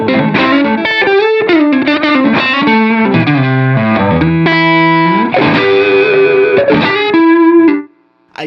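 An electric guitar played through a Tube Screamer overdrive pedal, with its neck pickup and a little reverb, rings out in distorted melodic notes and bends for about eight seconds, loud and close, then cuts off.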